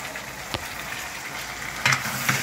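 Cauliflower goes into a hot pan for a tangy-spicy Bengali dish and sizzles steadily, with a couple of short louder bursts and scrapes as the pieces land and shift.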